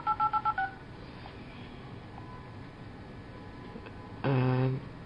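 Keypad tones come from the Android L phone dialer on a Moto G: a quick run of about five short beeps, a pause, then one longer tone, all close and clear.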